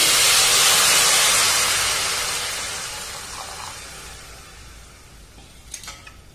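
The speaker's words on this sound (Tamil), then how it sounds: "நான் ஒரு 1/2 லிட்டர் பால் இப்ப இதுல சேர்த்து கொடுக்குறேன்" Half a litre of boiled milk pours into semiya payasam, a loud broad hissing splash that slowly fades as the pour tapers off, ending with a few faint clinks and no talking.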